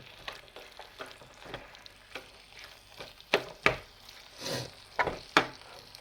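Leftover vegetable fry being reheated in a pan, a faint low sizzle broken by sharp scraping and stirring strokes of a spatula that grow louder toward the end.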